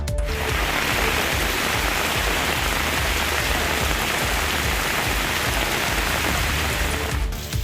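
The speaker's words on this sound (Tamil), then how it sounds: "வேலூர் மாவட்டத்தில் இடி மின்னலுடன் கனமழை பெய்தது." Heavy rain pours during a thunderstorm in Vellore district, Tamil Nadu, a dense, loud, continuous hiss of downpour on surfaces filling the whole span with no voices.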